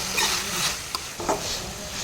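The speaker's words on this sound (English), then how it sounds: "Add some of those too. Stir and stir." Curry leaves are stirred in a frying pan for a Kerala-style trevally fish curry, with soft scraping and sizzling and a couple of light knocks of the spoon against the pan, no voices.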